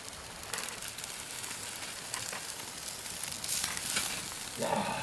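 Food sizzles steadily in a hot pan, a soft continuous crackle with faint pops and a little clatter near the end.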